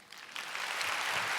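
A church congregation claps during a testimony service, a broad wash of applause that swells from soft to fuller and holds steady, heard at a distance in a large room.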